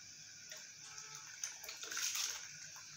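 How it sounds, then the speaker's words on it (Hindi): Washed rice poured into a pot of boiling water with bay leaf and cinnamon for chicken biryani, a soft watery splash and bubbling swell lasting a few seconds, close and fairly quiet with no talking. "चावल मैंने इसके अंदर ऐड कर दिए हैं"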